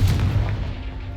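A Confringo fire spell blasts off in Hogwarts Legacy with a single sharp, booming burst that trails off quickly into a low rumble.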